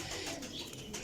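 Old-breed black pigeons give a brief, soft cooing amid low, faint background sound.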